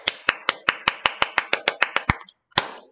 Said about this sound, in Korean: 박수 쳐야 되겠다. 박수.